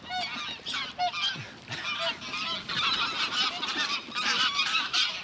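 Geese honk loudly and repeatedly nearby, a dense, overlapping chorus of nasal calls that continues throughout without any speech.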